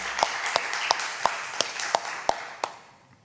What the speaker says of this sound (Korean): 박수로 하나님 앞에 영광 올려드립니다.